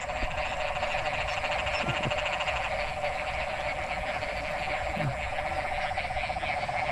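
A dense chorus of frogs croaks continuously after rain, steady and loud, with a few deeper individual calls standing out briefly.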